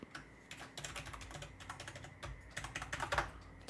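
A password being typed on a computer keyboard: quiet, close keystrokes in irregular quick clusters, a few louder taps toward the end, no talking.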